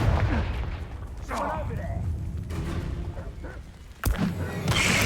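A Confringo fire spell bursts into a sharp explosion in Hogwarts Legacy, one loud blast near the end following a stretch of game sounds and a voice talking.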